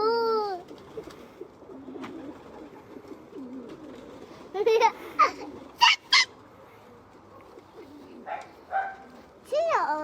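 Pigeons coo and call among grain scattered for them, with a few short, louder bursts partway through over steady background sound, while people talk and a voice is heard nearby.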